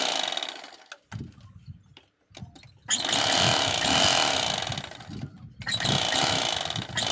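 A sewing machine runs in close, steady whirring stretches while stitching a folded cloth seam, stopping briefly and starting again between sections.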